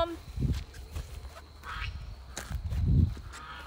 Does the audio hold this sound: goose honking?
yes